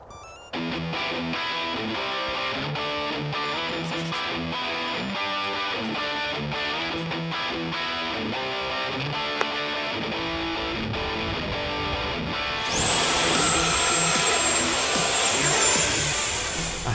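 An Arrows Hobby 50mm BAe Hawk RC model jet runs its electric ducted fan with a steady whirring hum that swells into a louder high-pitched whine during a fast pass near the end.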